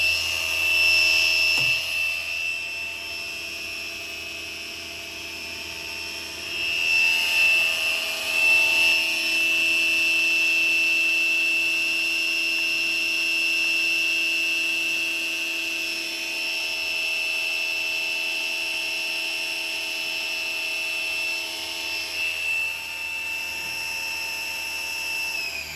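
A DIY CNC milling machine runs a program at about 5,000 RPM, giving a steady high-pitched spindle whine with a constant motor hum that swells slightly as the cut changes, alone and continuous.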